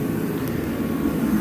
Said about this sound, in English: It's cold today, so I got a heater running.